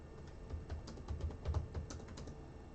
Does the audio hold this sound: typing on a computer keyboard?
yes